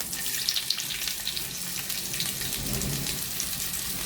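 Onions fry in a teaspoon of cooking oil in a pan being used for a chicken, mushroom and broccoli stir-fry, giving a continuous close sizzle with faint crackles and no talking.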